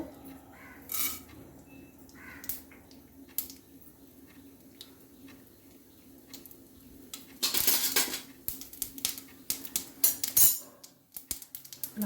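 Mustard seeds splutter in hot oil, with irregular crackling pops that start sparse and grow into a dense, loud burst of snapping before easing.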